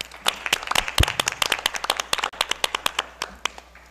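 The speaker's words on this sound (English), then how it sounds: "Another round of applause" A round of applause at a board of education meeting, with distinct, fairly sparse claps from a modest audience, some sharp and close, ragged in rhythm and continuing throughout.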